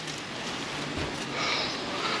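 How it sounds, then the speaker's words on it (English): Steady rain hisses and patters continuously in Luxembourg, a dense wash of drops with no voices. "Bit of crap weather today as well. Bit of rain."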